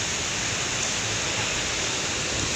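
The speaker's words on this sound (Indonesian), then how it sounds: "air terjun PONOT ini. Ini semakin dekat ya guys." Roaring water from Ponot waterfall in Asahan, North Sumatra, the area's tallest falls, heard up close as a steady, dense, unbroken rush filling the whole scene at a moderate level.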